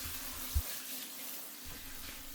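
Mordanted wool is rinsed by hand in water after a rhubarb-leaf mordant bath, giving a faint, close trickle and slosh with one soft splash near the start and no voices.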